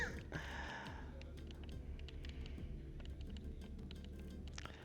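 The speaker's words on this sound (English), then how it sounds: "me clicking on the controller?" Rapid, light plastic clicking of buttons on a game controller during Tetris Effect: Connected play, a continuous quiet patter of taps over a low background hum.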